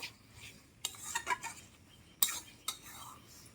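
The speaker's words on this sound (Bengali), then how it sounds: "মশলাগুলো দিয়ে একটুখানি নাড়াচাড়া করে আমি নামিয়ে নেব" Hog plum pickle being stirred with ground roasted spices, quiet scraping and a few sharp metallic clinks of a spoon against the pan, separated by near-silent gaps.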